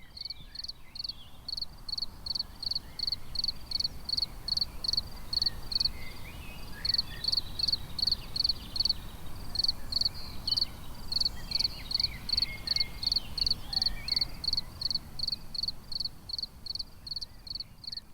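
Crickets chirp on a warm evening in rapid, evenly spaced pulses that repeat in short bursts with brief pauses, steady and moderately loud over a soft low background of insects.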